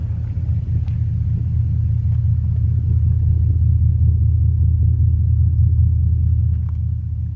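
A high-mileage Ford V8 idling, a steady, loud, low rumble with an even throb throughout and no revving.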